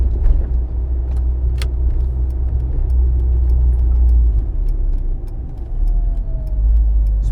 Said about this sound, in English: Speed bumps are no issue.